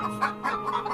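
Chickens in a cartoon farmhouse cluck in a quick series of short, fairly soft clucks with no one talking.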